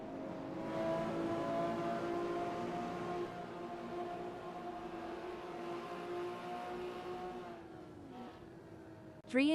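A race car in the SimSpeed Sport Cup sim racing game holds a steady engine drone with sustained harmonic tones through a track corner, pitch dipping briefly near the end before a sharp burst, heard alone at moderate loudness.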